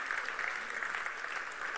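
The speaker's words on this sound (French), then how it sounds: "Est-ce qu'on peut l'applaudir bien bien fort?" A congregation applauds a missionary with a brief, even burst of many hands clapping together, moderately loud and sustained.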